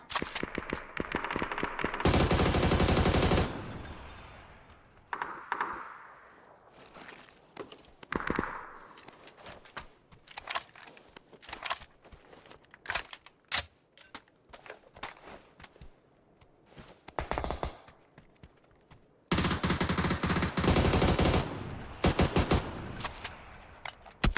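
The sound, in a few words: automatic rifle gunfire in a video game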